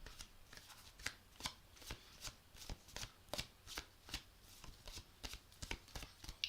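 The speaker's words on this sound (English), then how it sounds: "So right now I'm shuffling the cards, just getting them ready." Tarot cards being shuffled by hand: quiet, close riffling and flicking in a steady rapid rhythm of crisp snaps, repeating throughout with no voices.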